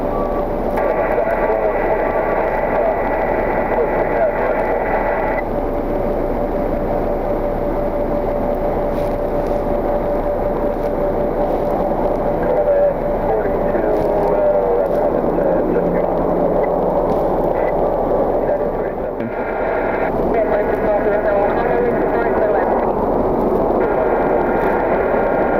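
Boeing 737-800 airliner at Cleveland Hopkins airport in winter: continuous loud jet engine rumble and whine, sustained throughout, with faint radio-like tones in places.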